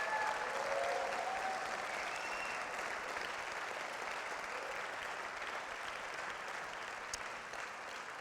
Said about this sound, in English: let's give all of these groups again one more time, one big round of applause